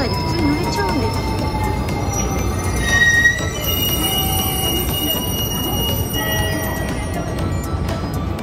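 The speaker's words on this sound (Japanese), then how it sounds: "特急車両の E653 系ですが、" A JR E653 series limited express train, standing in for a rapid service, runs along the line with loud, steady wheel and rail noise and sustained squealing wheels, while voices talk faintly underneath.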